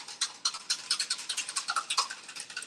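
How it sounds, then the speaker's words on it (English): A whisk beating a mixture in a bowl, with quick, rhythmic scratchy strokes at close range, several per second, steady and fairly soft with no talking. "So we're going to whisk that up a little bit."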